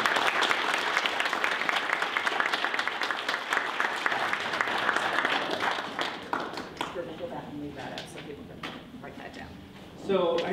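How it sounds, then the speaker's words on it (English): A round of applause at a conference awards banquet fills the room with dense, steady clapping for several seconds, then thins out as voices and scattered claps take over near the end. "So I think it would be a good thing if we gave one more round of applause for Cynthia."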